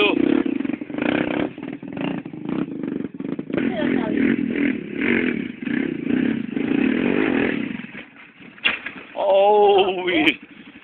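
A motorcycle engine runs and revs on a dirt trail at Guaraciama, rising in pitch near the end, with people talking loudly over it throughout.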